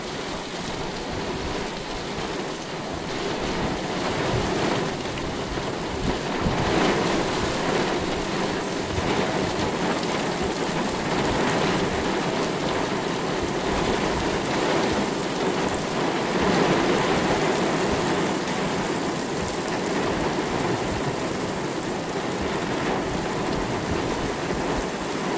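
Heavy rain pours during a supercell thunderstorm, a loud, unbroken roar of water that swells slightly at times, with faint rumbles underneath and no voices.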